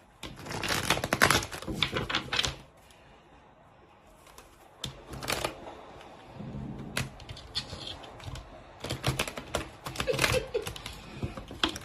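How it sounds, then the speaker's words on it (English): A tarot card deck is shuffled by hand in bursts of dry, crisp riffling and clicking, with busy stretches near the start and end and quieter handling in between, close up and without talk. "That was a weak shuffle."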